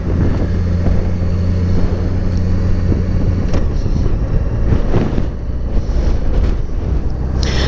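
A car driving through a residential neighborhood under construction, heard from inside as a steady, loud rumble of engine and road noise mixed with wind, continuous throughout.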